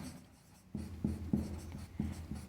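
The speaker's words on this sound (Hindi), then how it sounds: "तो यहाँ लिखेंगे यूक्लिड विभाजन" Chalk or marker strokes on a board during a maths lesson on Euclid's division algorithm, a string of short scratchy taps and swipes in an uneven rhythm, close and fairly quiet, with no talking.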